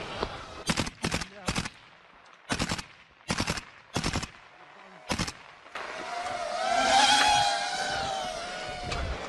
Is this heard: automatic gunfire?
yes